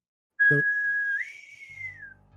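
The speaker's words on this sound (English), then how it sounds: "you hear a whistle back. Kind of like the ship's sailor whistle." A ship sailor's whistle played from a soundboard: one loud, steady high tone held about a second, then bending upward and gliding back down as it fades, a brief low thump at the start and a faint low hum after.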